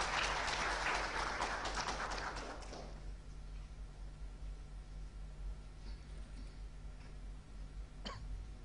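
An audience claps for a few seconds to welcome a guest at the opening ceremony of the ASEAN Economic Community, then the applause fades into quiet room noise.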